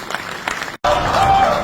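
Audience applause at an All India Mushaira poetry gathering in Dehradun, honouring freedom fighters: dense clapping breaks off for a split second, then resumes fuller and louder with a thin sustained whistle-like tone.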